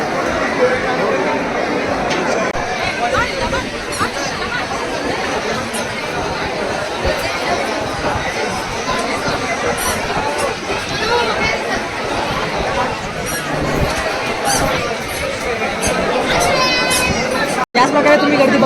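Dense crowd chatter at Ekvira temple in Lonavala, a steady loud babble of many voices with footsteps and bustle throughout, close and continuous.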